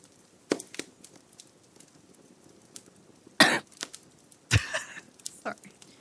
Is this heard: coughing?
yes